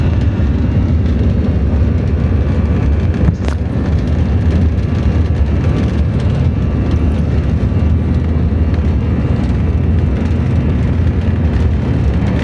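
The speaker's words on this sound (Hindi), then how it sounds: "तो इस टाइम पर जहाज़ की स्पीड बहुत हाई होती है और शोर बहुत ज़्यादा होता है।" A passenger jet accelerates down the runway for takeoff, a loud, unbroken roar of engine noise and rumble heard from inside the cabin, steady throughout with one brief thump partway through.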